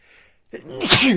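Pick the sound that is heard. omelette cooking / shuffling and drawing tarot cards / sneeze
sneeze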